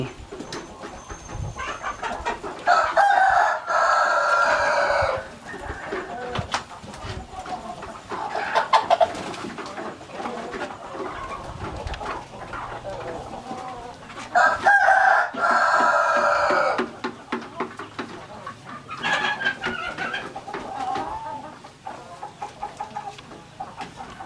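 Native Thai Pradu Hang Dam chickens crow repeatedly on a farm, with loud drawn-out calls near the start and in the middle, fainter crows and clucking between them, and no talking.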